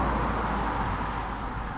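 Steady roar of traffic on a busy road beside an overnight stop near a pub car park, a dense continuous wash of passing vehicles close by with no distinct events.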